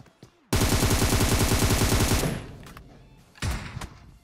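Rapid automatic gunfire from the PUBG Mobile game rattles loudly in a sustained burst of nearly two seconds, then trails off into scattered echoes before another short, loud shot.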